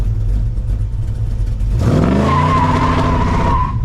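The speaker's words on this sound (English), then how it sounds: "we're gonna do a burnout garage too" Pontiac Firebird doing a burnout in a garage: a steady rumbling idle, then the engine revs hard with tires squealing and a rising, sustained high whine held against the rev limiter.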